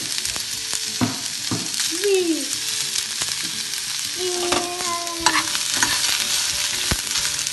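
Dried red chillies frying in a pan for onion chutney, a continuous close sizzle broken by sharp stirring scrapes and clinks, with a few squeaky tonal scrapes from the utensil.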